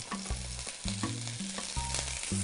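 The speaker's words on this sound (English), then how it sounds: "The olive oil is nice and hot. Time to begin browning." Meat browning in hot olive oil gives a steady, close sizzle with bursts of crackle, backed by low rhythmic thumps and no talk.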